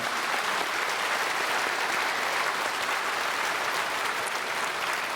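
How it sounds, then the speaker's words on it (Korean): A church congregation during Sunday worship applauds two deacons after a special performance, a long, steady wash of many hands clapping, even in level and heard without speech. "우리 박수로 축복하겠습니다"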